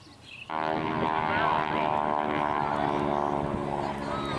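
A propeller airplane flying aerobatic maneuvers at an air show near Harrisburg and Hershey, with a steady, loud engine drone that rises suddenly and holds, with faint crowd noise underneath.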